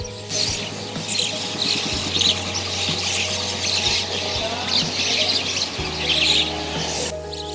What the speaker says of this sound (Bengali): স্নিগ্ধ সকাল আর পাখির কিচিরমিচির শব্দ আহ সত্যি এক অসাধারণ অনুভূতি